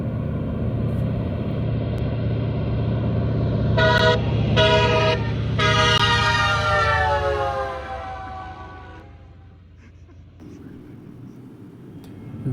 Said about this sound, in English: This Antonov AN2 is equipped with a train horn, making for an impressive low pass.